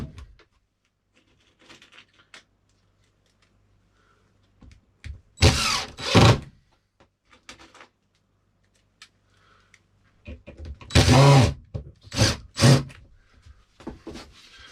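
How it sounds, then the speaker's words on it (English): A power driver sends 4mm screws into countersunk holes in a model railway baseboard in short whirring bursts separated by quiet gaps, close and moderately loud. "just screw this down"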